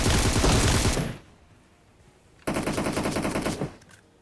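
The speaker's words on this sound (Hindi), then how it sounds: "अरे गोली कैसे पेलता है ये" Rapid automatic gunfire from a BGMI match: a dense burst of repeated shots for about a second, a short lull, then a second sustained burst, loud and close, with no talk over it.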